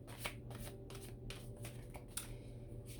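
Tarot cards shuffled close by in a quiet room, giving soft repeated riffling taps and slides in an uneven rhythm, with no talking.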